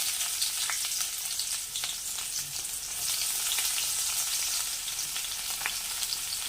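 Chopped onion sizzles in hot oil for pumpkin pachadi, a continuous crackling fry with small scattered pops and occasional stirring, moderately loud and close, with no voices.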